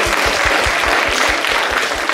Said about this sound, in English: Please, a round of applause for the young man for speaking up so bravely.